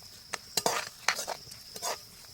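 A tempering of turmeric, chilli powder, cumin powder and salt frying in a pan, with a faint sizzle broken by several sharp clinks and scrapes of a spoon against the metal, close and fairly quiet.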